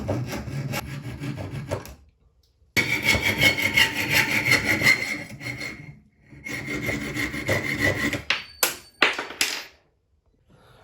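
Vintage 1960s Veron Caribbean Coaster model boat part being filed or sanded smooth, close and loud, in steady rasping strokes with two brief pauses and a few sharp taps near the end.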